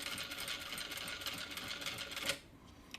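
A Vevor M2 sewing machine fitted with a Sailrite binder stitches two pieces of Cordura nylon in a steady, fast run of needle strokes, loud and continuous, then stops abruptly near the end.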